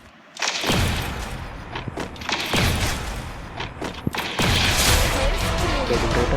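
A gun in a video game fires in heavy repeated bursts with short pauses between them, with mechanical reload clicks and clunks mixed in, loud and close, while a person talks over it.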